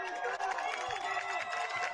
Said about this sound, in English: And the crowd getting loud here inside Mears Stadium on a big 4th down.